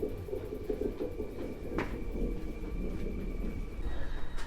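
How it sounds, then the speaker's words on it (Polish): A train standing at a platform at Warszawa Zachodnia station, a low continuous rumble and hum from the railcars with occasional metallic knocks and clanks, heard nearby amid the station's open ambience. "A obok mnie jest pociąg"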